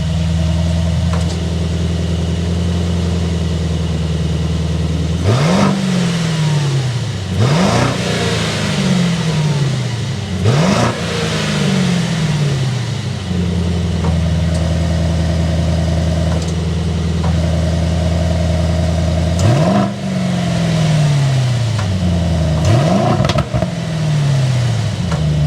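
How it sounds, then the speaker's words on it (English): A 2022 Mercedes-AMG GLE 63 S bi-turbo V8 idles with a deep rumble, then revs sharply several times, each blip rising and falling back, loud and close. "start it up so you can hear that exhaust note"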